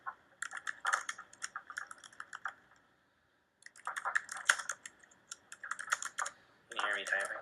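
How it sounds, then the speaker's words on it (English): Computer keyboard typing in bursts of quick clicks and clacks, pausing briefly midway, with a voice speaking at times over the keys. "Can you hear me typing?"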